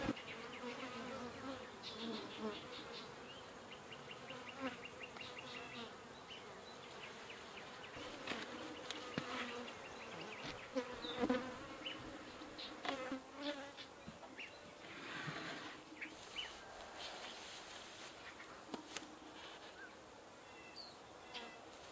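Honey bees buzz around an open horizontal hive outdoors, a dense continuous hum of many insects near and far with individual bees droning close past, and occasional faint handling sounds.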